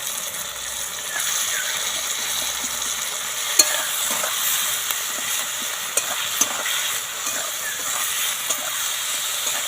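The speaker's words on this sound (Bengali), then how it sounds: "রসুনটা ভালো করে ভাজা করে নেব" Garlic paste fries in a pan with a steady, close sizzle and hiss, broken now and then by soft scrapes and taps of a spoon stirring.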